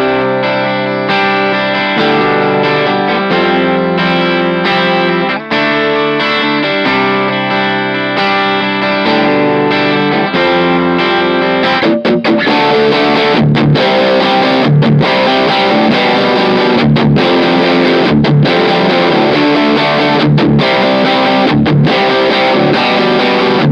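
Electric guitar through a single channel amp rigged for two sounds, playing a loud clean passage with effects for about twelve seconds, then switching to heavier distorted, chunkier rhythmic playing, with no talking.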